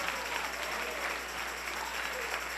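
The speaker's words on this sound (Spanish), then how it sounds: "Denle un aplauso al Rey en esta preciosa noche." A church congregation at an evening service claps together in dense, sustained applause that fills the room evenly for the whole stretch, with no individual voices standing out.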